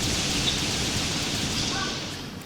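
Light fruit rain-of-light attack in the game Blox Fruits, a dense hissing wash like steady rain with faint chiming sparkles, fairly loud and continuous before easing slightly at the end.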